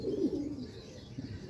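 Pigeons kept as racing and wedding birds coo softly and close by, a low rolling call repeated over a short stretch with no talk.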